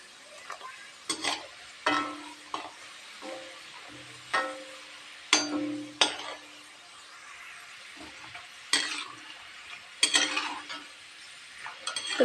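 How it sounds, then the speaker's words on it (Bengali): Cashew biscuits frying in oil, with a faint soft hiss beneath intermittent close metal clinks and scrapes of a spoon in the pan, irregularly spaced, no voices. "দেখো কাজু বিস্কুটগুলো যখন তেলে দিয়েছি কতটা ফুলে এসেছে কাজু বিস্কুট"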